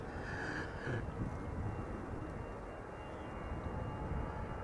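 An EasyJet airliner departs Amsterdam Schiphol bound for Edinburgh, heard as a faint, distant, steady jet rumble with no voices.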